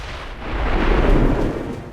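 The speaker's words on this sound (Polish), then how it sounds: "tu po prostu mamy w Claymora, więc jak to wybuchnie" A Claymore explodes after being shot in the video game XCOM 2, a loud, low, rumbling blast that swells and then fades over about two seconds, with no talk.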